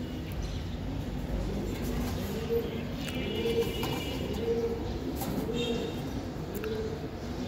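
Large breeding Giribaz high-flying racing pigeons give soft, repeated low coos at a steady pace under a constant hum of background noise, with faint voices nearby.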